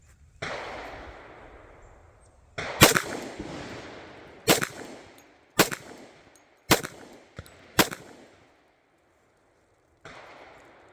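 A Glock pistol fires at a target outdoors: about six sharp, loud shots spaced a second or so apart, each trailing a short echo, with a faint clang from the target and quiet gaps between.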